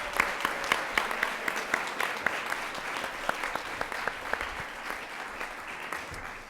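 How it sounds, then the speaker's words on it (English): A gala audience at a faculty awards evening gives a round of applause, a sustained wash of many hands with sharp individual claps standing out, moderately distant and fading slightly at the end. "Please join me in a round of applause for Dr. Larry Whitmer."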